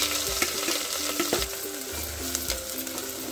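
Diced onions sizzle in hot oil for soya dum biryani, with steady frying crackle and repeated scraping stir strokes of a spoon against the pan, close and fairly loud throughout.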